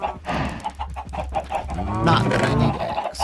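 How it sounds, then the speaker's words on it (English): Chickens cluck in the video game Minecraft, with repeated short clucks and a longer warbling call over a busy background, fairly loud and close, with some voice mixed in. "I've been breeding up the chickens"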